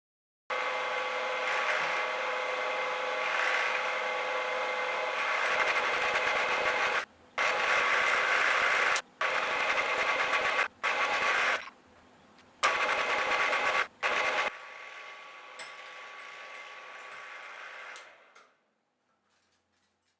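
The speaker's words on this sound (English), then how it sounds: "Drilling 2 spacers." A drill bores holes in two spacers for a belt grinder work table, running in loud steady whining bursts that stop and restart several times, then trails off into a fainter hum and quiet.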